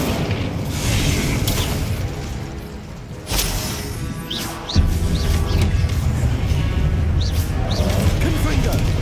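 Incendio fire spell blasts in Hogwarts Legacy combat, heavy booming bursts with crackling fire that recur over a steady game soundscape, with a voice speaking between them.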